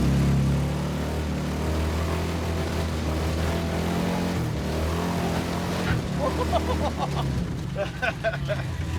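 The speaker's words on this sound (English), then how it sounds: "This thing revs pretty good for a motorhome motor." A loud 440 motorhome engine in a Dodge Dart drones and revs continuously nearby, its pitch rising and falling, with a rattling clatter toward the end.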